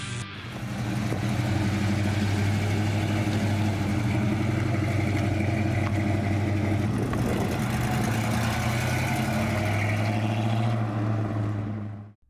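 A Dodge Coronet R/T with a HEMI engine idles steadily, its deep low rumble close and even for the whole stretch before cutting off abruptly at the end.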